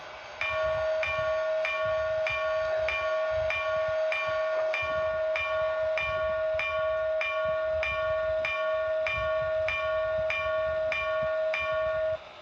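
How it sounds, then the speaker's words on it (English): The bell of an HO scale model Southern Pacific GS4 steam locomotive's sound system clangs steadily and evenly, about one ring per second, sustained throughout over a low rumbling hum. "Pretty nice bell."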